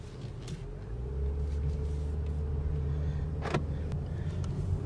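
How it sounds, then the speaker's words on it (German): A car drives around Appenzell, with a steady low engine hum and tire rumble building as it gets underway, heard from inside the cabin, with a brief whoosh of passing movement. "Wir fahren jetzt einfach einmal um Appenzell herum"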